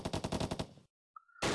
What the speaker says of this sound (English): Then we have the Vickers MG. Just listen to that sound.